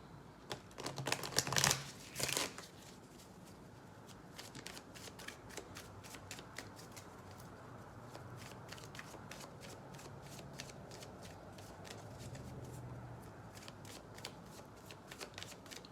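Tarot cards being shuffled by hand, a loud riffling burst early on followed by many light, quick card flicks and taps continuing steadily at close range.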